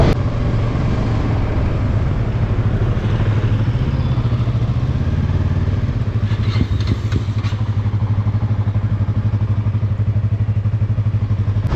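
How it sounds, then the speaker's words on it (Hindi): A motorcycle engine idles steadily and loudly up close, a constant low chugging rumble with brief clatter partway through. "वो इंजन के पास जाता है, मेरे को उसका आवाज़ बहुत ज़्यादा फैसिनेटिंग लगा"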